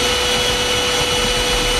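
A Hoover vacuum cleaner drones steadily and loudly inside a school classroom, a constant unbroken roar that fills the whole stretch with nothing else standing out.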